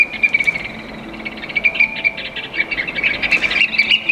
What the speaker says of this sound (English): fascinating conversation with an oystercatcher